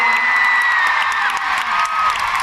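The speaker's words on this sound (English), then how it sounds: "give her a round of applause" A fanmeet crowd in Singapore applauds and cheers, loud dense clapping mixed with excited shouts and whoops, with a sustained tonal musical line running underneath.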